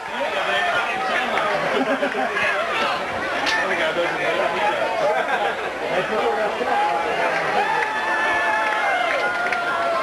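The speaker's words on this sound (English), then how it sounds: "You can hear the crowd. They are cranked up about this one." A large crowd at a 1990 SC baseball state championship game roars and chatters continuously in the distance, an excited, steady wall of cheering voices with no single caller standing out.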